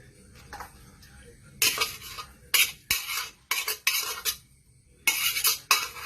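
A spoon scrapes and clatters as pumpkin paste is tipped into a clay pot and stirred, in several loud, separate bursts with quiet gaps between them.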